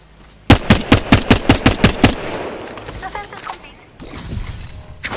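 Automatic gunfire in the video game Apex Legends opens with a loud, rapid burst of about nine shots. A crackling, shattering tail and scattered smaller game sounds follow.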